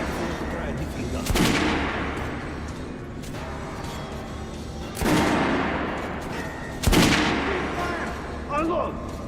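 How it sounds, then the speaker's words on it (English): Gunfire on a shooting range in the video game Metro Last Night: three or four sharp, loud shots spaced a few seconds apart, each with a brief ringing tail over a steady background hum. "Come to my range and try out those guns."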